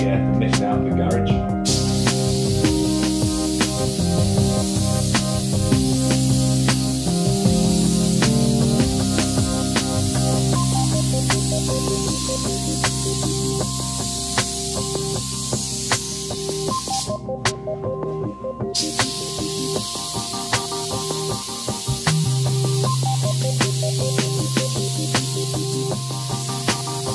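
A spray gun lays a candy red coat on a custom motorcycle tank in a home garage, giving a loud, continuous hiss that pauses briefly once or twice.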